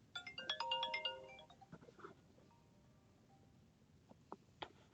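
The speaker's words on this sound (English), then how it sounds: "I had to take a phone call" A phone ringtone plays a quick bright melodic chime burst at the start, then fades out, leaving a quiet room with a few faint clicks and soft knocks.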